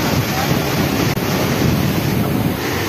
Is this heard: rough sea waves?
yes